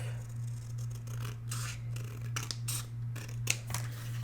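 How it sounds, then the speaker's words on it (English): Scissors trim paper for a mini album in a series of close, crisp snips and slicing rasps over a steady low hum. "I'm just going to trim the bottom off"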